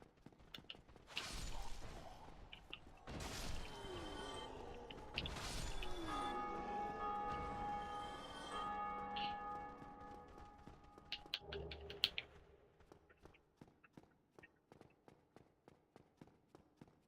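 A deep bell in the Dark Souls video game rings out after the gargoyles are defeated, with several loud strikes that fade into long ringing tails, followed by rhythmic footsteps.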